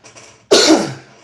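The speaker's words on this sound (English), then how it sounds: "pardon my cough." A single sharp, loud cough bursts out close to the microphone and trails off, following a brief faint murmur.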